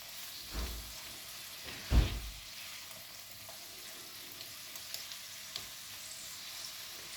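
Salted food fries and sizzles steadily in a pan, a faint, continuous crackle with a couple of soft knocks from stirring near the start, no talking.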